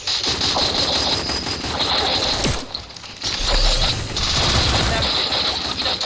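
Rapid gunfire crackles through a battle royale video game match, dense rattling bursts with mechanical clicks and a brief lull, loud and constant, while players talk over it.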